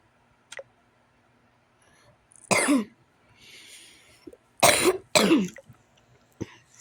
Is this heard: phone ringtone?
no